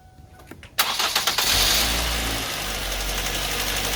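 A Ford Focus engine is started after an alternator replacement, with a few clicks followed by a loud cranking catch. It then settles into a steady, rough idle close by, with no voices.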